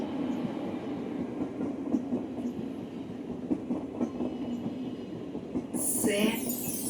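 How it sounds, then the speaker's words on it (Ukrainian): A tram rumbles and clatters steadily along its rails, with rhythmic wheel clicks and a brief high squeal near the end. "Трамвай."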